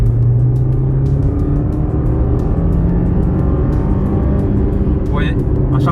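A Suzuki Swift 1.2 engine drones loudly as the car accelerates, rising in pitch and dropping back with each gear shift, while a voice talks over it.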